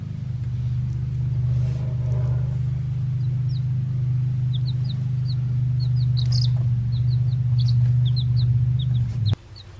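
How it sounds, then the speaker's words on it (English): Six baby chicks cheep in short high peeps, scattered and repeated over a loud steady low hum, with the hum cutting off abruptly near the end. "6 chickens."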